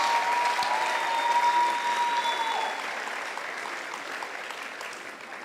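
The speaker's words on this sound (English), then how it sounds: "Can we give one more round of applause for that invigorating speech?" Sustained applause from an audience after a speech at a UWC Day event, a dense, even roar of many hands, close and full, slowly easing over several seconds with a faint tone ringing through the first half.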